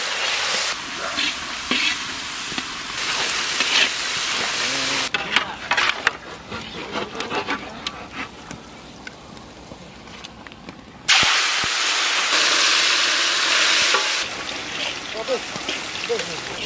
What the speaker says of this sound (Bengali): পেঁয়াজটা সুন্দর ভাজা হয়ে গেছে